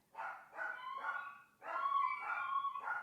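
Several dogs bark and yip in quick bursts, two clusters of sharp, fairly close barks with a slightly whining tone, heard on their own without talk.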